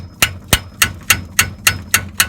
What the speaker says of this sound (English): I just usually sometimes take a hammer and just tap it